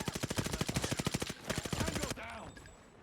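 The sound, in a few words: gunfire in Call of Duty Mobile video game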